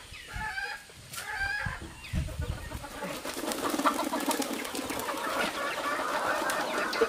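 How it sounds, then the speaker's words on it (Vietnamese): Chickens in a crowded coop, clucking and squawking at close range over rustling and scuffling, getting busier and denser toward the end. "Đây là một cái chuồng gà đây. Có nhiều gà nhốt trong này lắm."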